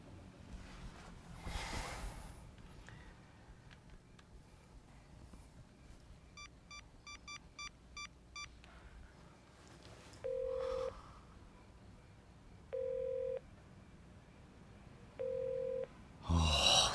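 A telephone keypad is dialed as a quick run of dual-tone beeps, followed by three separate steady electronic beeps, all over a low background hiss with no talking.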